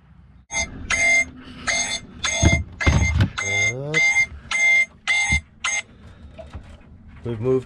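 A boat's anchor alarm beeps in a series of loud, evenly spaced electronic tones, with a brief jumble of bursts in the middle, while the boat sits at anchor in a bay with swell.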